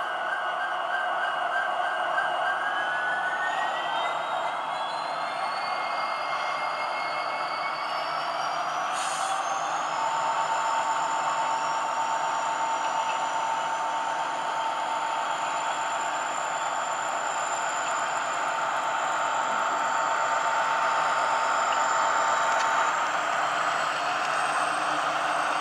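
A model train lashup of three locomotives running at about half load gives a steady, continuous hum and whine, with tones that rise and shift as it runs, holding even throughout.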